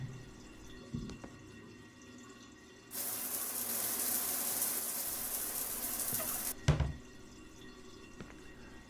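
A shower running in the video game Shadows of Doubt: a steady, loud hiss of spraying water switches on, runs for several seconds, then cuts off with a thud, set against a quiet room hum.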